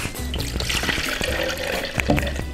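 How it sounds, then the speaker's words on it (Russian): Whey poured into a mixing bowl for a milkshake in a cooking lesson, a close trickling splash with small clinks and knocks of utensils. "Наливаем сыворотку."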